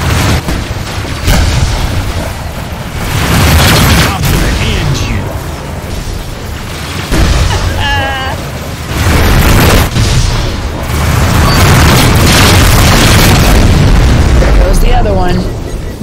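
Missile explosions in the space combat game Rebel Galaxy Outlaw: loud repeated booms and bursts over constant engine roar, with intermittent speech and electronic warning tones between the blasts.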